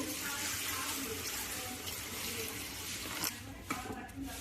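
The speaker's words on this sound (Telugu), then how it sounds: "గ్రేవీ కోసం కొంచెం వాటర్ పోసుకుందామండి" Water poured into a curry to make gravy comes through as a steady, close rushing pour that lasts most of the time, then breaks off into a few splashes and knocks near the end.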